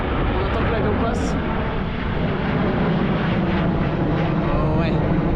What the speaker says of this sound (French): On attend que l'avion passe.